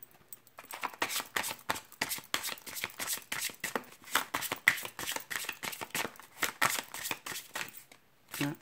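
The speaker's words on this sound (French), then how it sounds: "je vais prendre une autre carte." Tarot cards are shuffled and drawn up close, with rapid riffling flutters and sharp card snaps in quick irregular bursts, fairly quiet, with no speech.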